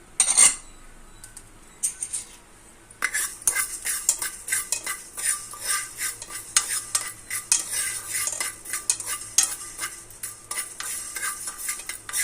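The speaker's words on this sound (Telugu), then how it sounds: "నెక్స్ట్ మెంతులు వేపుకుందాం అండి." Fenugreek seeds are dry-roasted and stirred in a pan for homemade ivy gourd pickle, giving a close, busy rattle of seeds and utensil scraping against metal in rapid, continuous strokes after a brief quiet start.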